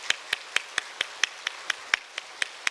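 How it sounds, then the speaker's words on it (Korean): A church congregation claps at an autumn special dawn prayer meeting, with steady, evenly spaced claps of moderate loudness and no voices over them. "우리 교구에 있는 우리 자녀들 보면서 박수로 한번 격려하겠습니다."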